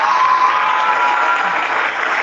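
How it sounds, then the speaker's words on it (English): Canned applause from a speaker fills the room as a steady, dense wash of clapping, loud and unbroken the whole time, with no voices over it. "Turn the fucking applause off"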